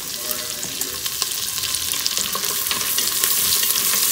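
Green chilies and garlic cloves fry in hot oil with golden cashew nuts for a methi matar pulao, giving a loud, steady, close sizzle throughout with no talk.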